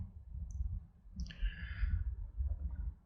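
A single quiet click of a computer mouse lands near the middle, close by, against a faint low room hum.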